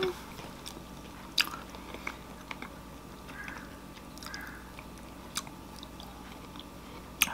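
Someone bites and chews pieces of tropical fruit up close, with soft wet chewing punctuated by a few sharp crunchy bites and clicks against quiet background.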